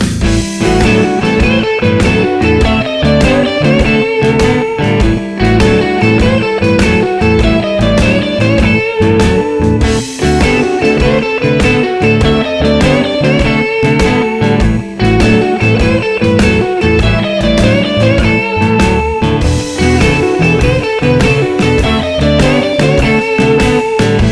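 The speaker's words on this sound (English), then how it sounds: "I'm going to put a backing track on, I'm going to jam that lick over it a few times" A steady blues backing track in A with drums and bass plays loud and continuous, with electric guitar lick phrases woven over it and no talking.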